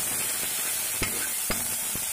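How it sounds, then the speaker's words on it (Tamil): Onions and tomatoes sauté in a pan for Bombay chutney, a quiet steady sizzle with two short knocks of a spoon stirring against the pan, no talk. "இப்போ வெங்காயம் தக்காளி நல்லா வதங்கிடுச்சு."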